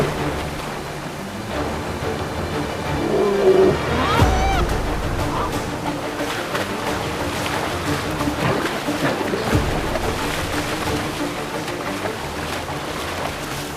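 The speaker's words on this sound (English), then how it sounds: "Rapids." Rushing river rapids churn steadily throughout as a continuous roar of turbulent water, loud and close, with a brief heavier surge near the middle.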